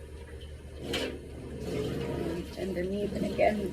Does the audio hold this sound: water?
yes